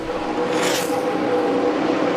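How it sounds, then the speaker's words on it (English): Jeff Gordon's NASCAR Cup race car on its final lap at Michigan, a loud continuous engine roar with a brief surging swell as it passes, no voices over it. "the white flag up for Jeff Gordon, who enters his final lap here at Michigan"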